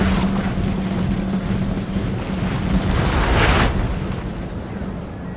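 Artillery fire in a Napoleonic battle video game, a broad rumbling roar swelling to a loud boom overhead of grenadiers, then fading, with a steady low drone underneath.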